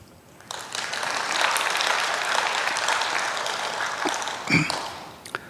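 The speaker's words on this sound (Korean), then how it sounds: "박수." A church congregation breaks into applause, a sustained wash of many clapping hands that swells, holds for several seconds, then tapers off with a few last claps.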